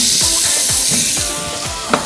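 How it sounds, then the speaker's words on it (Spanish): White onion sautéing in a hot pan, a steady loud sizzle with soft scraping and stirring strokes repeating throughout, no voices. "vamos a saltear un ratito mi cebolla blanca"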